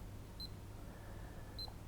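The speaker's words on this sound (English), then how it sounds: "I press the OK button" Two short electronic beeps from a programmable timer as its OK button is pressed, spaced about a second apart, clear and close against quiet room hiss.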